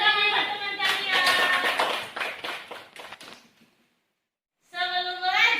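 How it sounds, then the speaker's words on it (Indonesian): A school class of children clap for a classmate, a burst of quick claps that fades out and stops, with children's voices sounding at the start and again after a brief silence. "Tepuk tangan buat teman kalian."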